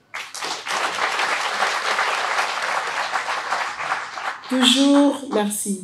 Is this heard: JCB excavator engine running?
no